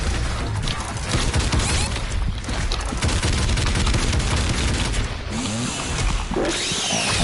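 Shotgun fire in Doom Eternal on Ultra-Nightmare, a loud, relentless barrage of blasts and mechanical clatter layered over dense combat noise throughout.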